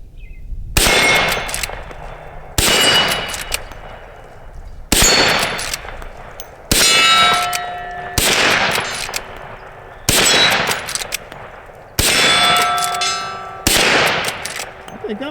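Eight sharp rifle shots from a Henry Big Boy Steel .357 lever-action, fired in a hurried string about two seconds apart, several answered by bright ringing clangs of rounds striking a steel target.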